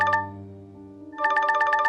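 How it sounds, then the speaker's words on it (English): An electronic phone ringtone chimes in a short melodic burst, pauses briefly, then rings again louder and clearer, with no voices. "phone rang again"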